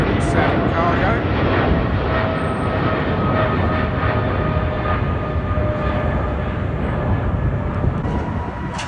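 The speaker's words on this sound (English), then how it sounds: "Etihad's 777 cargo." An Etihad Boeing 777 cargo jet at London Heathrow makes a steady, loud broadband roar with faint tonal whine, constant for the whole stretch; voices may be present faintly.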